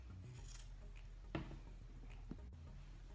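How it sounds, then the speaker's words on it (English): Scissors cutting through a cotton T-shirt, giving faint, soft snips and fabric rustle with a couple of sharper clips in a quiet room. "Just cut it all the way around."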